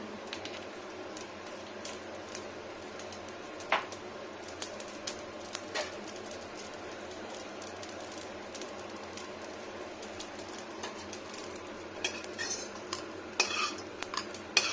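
Raw cumin seeds roast and get stirred in a pan on the stove, giving faint, sparse scrapes and light metallic ticks over a quiet kitchen background.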